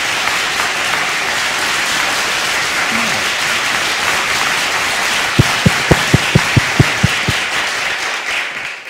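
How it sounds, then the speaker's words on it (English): An audience at a book distribution seminar gives a sustained round of applause, loud and dense, with a run of sharp, evenly spaced individual claps standing out near the end. "Give him a hand."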